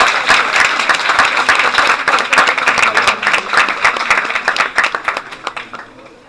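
An audience at a book launch event claps steadily, dense close applause that thins into scattered individual claps toward the end.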